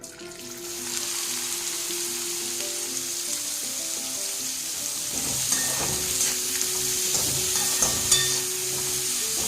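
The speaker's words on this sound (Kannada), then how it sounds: "ಈ ಹಾಗಲಕಾಯಿನ ಎಣ್ಣೆಲ್ಲೇ ಚೆನ್ನಾಗಿ ಹುರ್ಕೋಬೇಕು" About half a kilo of chopped bitter gourd pieces fry in hot oil, a steady close sizzle and crackle with occasional stirring clatter.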